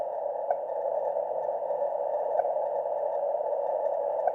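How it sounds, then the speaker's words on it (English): A HAARP research transmission picked up over shortwave radio at 9.6 MHz through a CW filter in Oklahoma: a steady tonal carrier with brief periodic pulse blips, sustained and even throughout, with no talking. "So that's actually a longer pulse, but because I've got the CW filter on, it just sounds like a shorter pulse."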